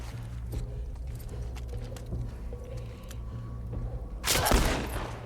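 Gunfire in The Last of Us Part II shooting a dog: a sharp, loud burst of shots near the end, after a stretch of quieter clattering and rumbling background.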